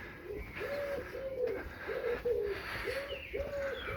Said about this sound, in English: I can hear birds everywhere